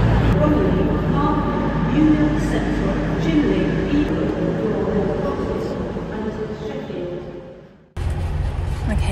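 A train rumbles steadily at a platform with a low engine drone and busy station noise, then a brief cut before the rumble resumes.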